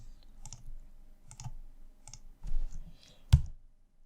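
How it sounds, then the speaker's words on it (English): Sparse keyboard key presses, likely the arrow keys, make soft clicks spaced irregularly, ending in one sharper tap, quiet and close with no voices. "I pressed up on my keyboard"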